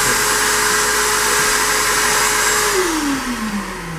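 A cheap $30 budget shop vac runs with a steady, loud whine and airy rush, holding a constant pitch before the motor tone drops and winds down toward the end.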